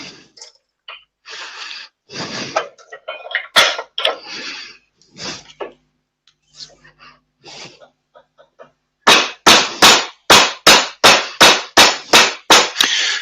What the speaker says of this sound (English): I'm using a soft hammer, by the way.